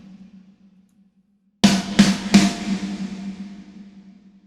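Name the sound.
snare drum with Cubase Revelation algorithmic reverb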